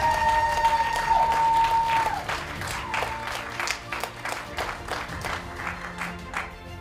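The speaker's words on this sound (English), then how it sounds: "clap for yourself for being a woman." Audience clapping in a room during a Women in Leadership address, a dense spread of claps rising after a sustained tone fades, with a steady crowded patter continuing throughout.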